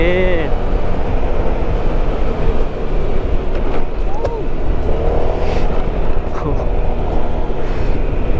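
A motorcycle engine revs at 7000 rpm on an open road with a fault limiting its speed, a loud, constant roar mixed with heavy wind rush, with someone talking intermittently.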